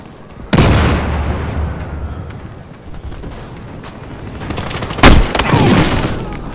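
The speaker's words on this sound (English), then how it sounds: "Grenade!" A grenade blast in the video game Battlefield Hardline, set in night woods: a loud, close boom opens the clip and a second heavy blast follows, with rumbling, crackling gunfire and a voice shouting between them.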